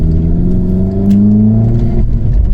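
A VW Golf Mk6 1.4 TSI fitted with a sports cat downpipe accelerates hard, its engine note climbing steadily in pitch with a loud, continuous droning rumble, close by, with no talk.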